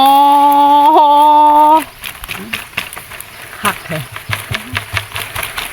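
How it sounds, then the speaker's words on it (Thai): A tractor engine drones steadily for a couple of seconds, then gives way to voices talking over its low rumble. "ได้ยินเสียงรถไถอยู่"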